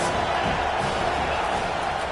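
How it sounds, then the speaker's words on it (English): A packed stadium crowd roars during a college football game on a third down, a loud, continuous wall of cheering and shouting from thousands of fans, sustained without letup. "this crowd is tearing the lid off this place"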